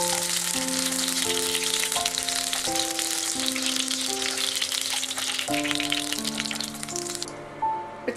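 Chicken pieces for chilli chicken sizzle and crackle steadily in hot oil, a dense continuous frying hiss under background music.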